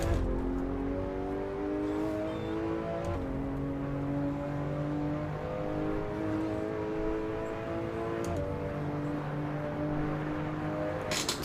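Exotic sports car in Assetto Corsa, its engine droning loud and steady with rising harmonic sweeps as it accelerates through gears, brief shift breaks near the start and middle, no talking.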